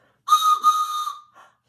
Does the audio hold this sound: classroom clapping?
no